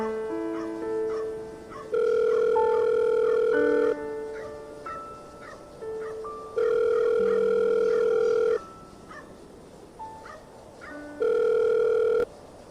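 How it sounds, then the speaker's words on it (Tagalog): Phone ringback tone while placing a call, long steady electronic rings repeating about every four to five seconds, loud and alone, with fainter tones and clicks between them. "Agad kong tinawagan si Weng."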